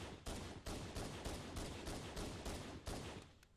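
Gunfire from the video game Halo 1 comes as a rapid series of about eight loud, evenly spaced bursts, played back close and dense, ending in a brief tail.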